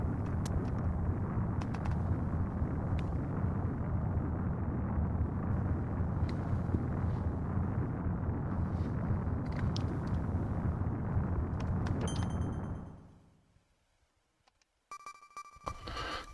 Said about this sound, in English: it says I need to throw grenades